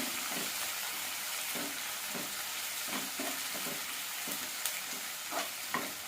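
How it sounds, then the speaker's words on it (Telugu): Chopped onions fry in a pan for an amaranth-leaf dish, giving a close, continuous sizzle broken by repeated scraping stirs, with no one speaking. "ఈ ఉల్లిపాయ ముక్కలు గోల్డెన్ బ్రౌన్ కలర్ వచ్చేంత వరకు బాగా ఫ్రై చేసుకోవాలి"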